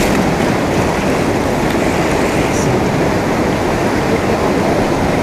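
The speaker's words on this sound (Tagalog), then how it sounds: "Binubuhusan nila ng tubig. Tapos sasalain po doon." Water is poured over gold ore for sieving at a small mining site, a loud, continuous splashing rush with a faint voice underneath.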